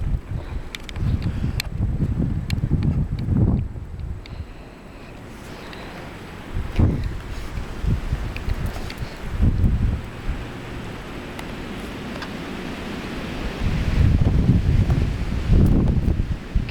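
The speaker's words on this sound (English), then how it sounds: "You can hear the wind or not," A hard blizzard wind during the 2010 East Coast snowstorm roars in repeated loud gusts that swell and fade against the microphone, with softer rushing between bursts.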